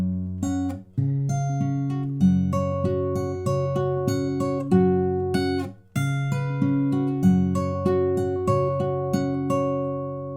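Fingerpicked guitar playing the chorus of a song, crisp plucked notes rolling in a steady pattern with ringing bass notes, solo and close.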